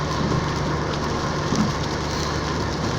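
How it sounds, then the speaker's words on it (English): Heavy rain pours down on a moving car on Halloween Eve near West Dearborn, a dense, steady hiss drumming on the roof and windshield over a low engine rumble, with no voices. "it's fucking pouring out."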